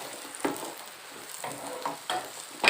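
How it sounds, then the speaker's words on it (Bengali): Chopped carrot and capsicum stir-fry in a pan for white sauce pasta, a soft sizzle broken by scraping stirs of the spatula, close up with no talking. "দিয়ে এই সবজিগুলোকে আমি একটু ভাজা ভাজা করে নেব।"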